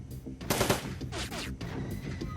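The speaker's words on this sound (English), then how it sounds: "Thankfully, the auto turret seems to always miss its opening salvo." An auto turret in Shadowrun: Dragonfall fires its opening salvo, a quick burst of rapid mechanical shots followed by whirring, sweeping tones, fairly quiet overall.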